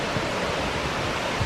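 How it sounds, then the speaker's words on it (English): Waterfall at Graveyard Fields near Asheville, North Carolina, pours in a loud, dense, continuous roar heard close up, with no voices. "Oh, we're getting to the waterfall. Here it comes."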